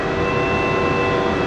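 A Haas ST-30 CNC lathe spindle turns steadily at 400 RPM, giving a constant whirring hum with a faint tonal whine, continuous and unchanging.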